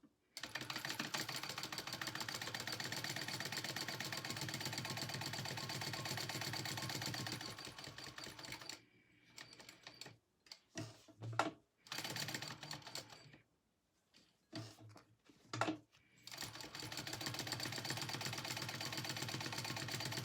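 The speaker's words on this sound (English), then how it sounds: "I'm gonna top stitch real quick, these two, my 2 liner pieces." A sewing machine top-stitches wallet liner pieces in a steady, rapid mechanical whir. Long continuous runs are broken by a stretch of short stop-start bursts, then a final sustained run.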